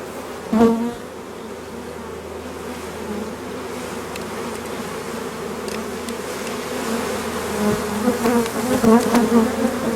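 Honeybees swarm around a hive after bad weather, a dense continuous buzzing close by, with individual bees rising louder as they pass near, steady throughout with no voices.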